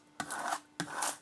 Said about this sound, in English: we're going to give that a scrape from the front